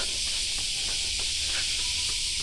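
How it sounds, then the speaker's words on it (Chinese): Cicadas drone in a loud, continuous, high-pitched buzz on a hot, humid day during a run, steady and unbroken, with faint rhythmic footfalls beneath. "蝉鸣声音太大了"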